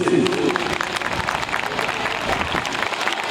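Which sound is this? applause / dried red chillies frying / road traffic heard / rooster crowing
applause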